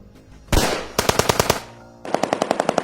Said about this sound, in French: j'ai entendu des coups de feu dehors.